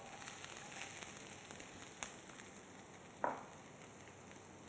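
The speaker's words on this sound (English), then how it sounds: "And we are going to saute it." Chopped onion sautés in a pan with bay leaf and black cardamom, giving a faint, steady sizzle throughout with one brief clatter partway through.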